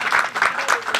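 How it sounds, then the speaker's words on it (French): A short burst of applause from a small audience at a legal workshop on naturalisation rights, with a handful of distinct, rhythmic claps close by. "Vous pouvez l'applaudir, elle a été sincère."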